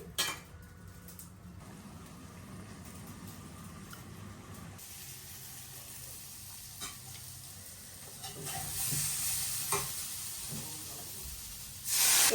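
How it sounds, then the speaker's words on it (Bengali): Turmeric and green chilies sauté in hot oil over a cumin tempering for a hilsa fish curry, giving a steady soft sizzle with occasional spatula scrapes and a brief louder burst of frying near the end; no one talks. "এখন হলুদ মরিচটা একটু কষায় নিই"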